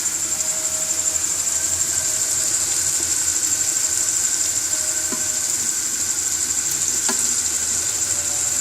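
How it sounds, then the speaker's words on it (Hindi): Fried stuffed okra going into a hot pan, giving a steady, loud broadband sizzle with a faint whine and a couple of soft knocks. "फ्राई की हुई भरी हुई ये भिंडी है, ये हम डालेंगे"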